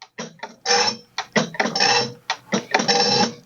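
A Bosch KB95 diesel fuel injector from a Minneapolis Moline G950 tractor on a hand-operated pop tester, giving a series of sharp, close chattering bursts of spray in an irregular rhythm with short gaps between them.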